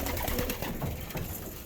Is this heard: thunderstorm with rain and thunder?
no